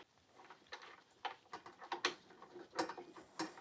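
A torque wrench tightens the brake caliper bolts on a Suzuki V-Strom 650, giving a series of faint, close ratcheting clicks in uneven short bursts against a quiet background.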